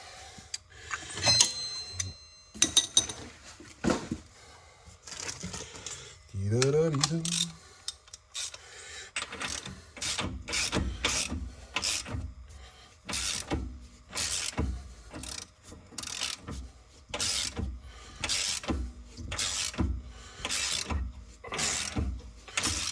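A ratchet wrench tightens the rear brake bolts on a Renault Mégane 2 CC, producing rapid bursts of close, loud ratcheting clicks in repeated strokes with short pauses between them.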